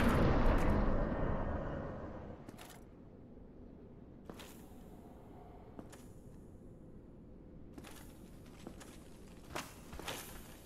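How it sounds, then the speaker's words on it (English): Dark Souls footsteps heard faintly as a few sparse, separated steps in a quiet space, following a louder rumbling swell that fades at the start. "Oh, I can hear footsteps."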